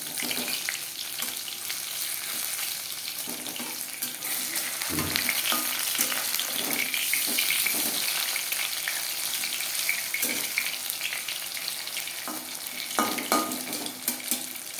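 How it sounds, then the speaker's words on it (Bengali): Prawn and vegetable pakoras fry crisp in hot oil with a dense bubbling sizzle, punctuated by occasional scrapes and clinks as they are turned over in the pan. "উল্টে পাল্টে ক্রিস্পি করে ভেজে দেবে।"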